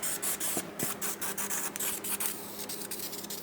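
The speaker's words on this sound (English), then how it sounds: "let's primer up the other one" Krylon aerosol primer sprayed in repeated short bursts at close range, a steady hiss broken by brief pauses, with no talking.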